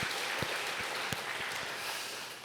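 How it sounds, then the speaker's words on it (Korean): Church congregation applauding during a Sunday worship service, a faint, steady wash of many hands clapping, fairly distant, with a few sharper individual claps standing out. "우리 하나님께 영광의 박수 같이 올려드리면 좋겠습니다."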